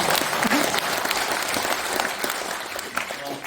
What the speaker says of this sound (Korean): 떨리니까 응원의 박수 한 번만 더 주세요.